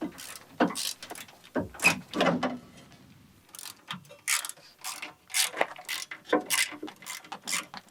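A ratchet wrench works a screw loose on the front crossmember of a BMW E36 325i, irregular clicking ratchet bursts with short pauses between strokes, close and fairly quiet.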